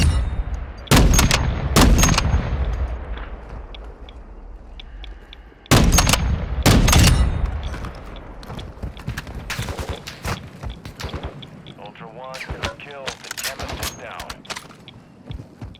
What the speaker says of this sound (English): After putting the target down with 11 50 caliber shots